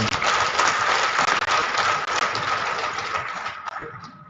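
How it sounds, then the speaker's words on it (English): An audience at a ceremony at the Nigerian Armed Forces Resettlement Centre, Oshodi, gives a dense, continuous round of applause for the Special Guest of Honor. The clapping holds at a steady level with a faint hum beneath it. "We will give another round of applause to the Special Guest of"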